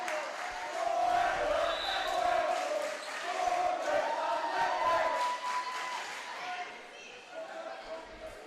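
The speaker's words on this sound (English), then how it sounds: "And two large student crowds here going back and forth." Two large student crowds at a varsity high school volleyball match chant and cheer back and forth in a gym, a loud, continuous roar that swells and shifts with the volleyball game's play-by-play commentary over it.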